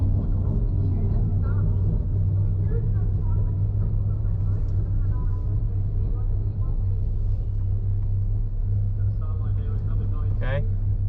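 Audi car engine at a track event, a low steady rumble heard from inside the cabin, continuous and fairly subdued, with faint creaks and a brief higher sound near the end.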